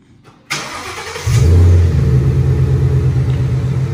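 The V8 engine of a 2016 Mustang GT cranks and fires up loudly and close, settling into a deep, rumbling idle with no talking.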